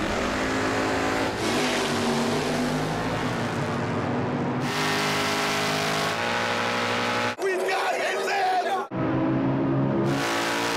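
Drag race cars, including a 1968 Roadrunner, roar hard under full acceleration at Maple Grove Raceway, loud sustained engine howls rising in pitch with brief cuts between, under an announcer's voice.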